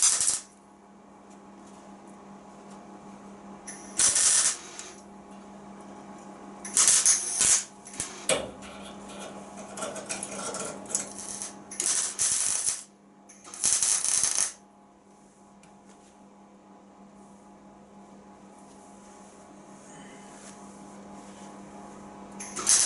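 A closing panel base is welded on an Austin Mini in several short, harsh crackling bursts of varying length, separated by stretches of low electrical hum, close by with no speech.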